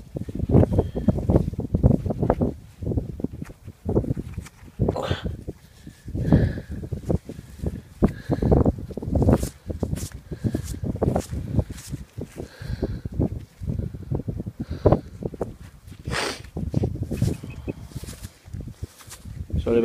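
Gusty wind buffets the microphone outdoors on a windy day in Lincolnshire, giving loud, irregular rumbling bursts throughout, with someone talking intermittently underneath.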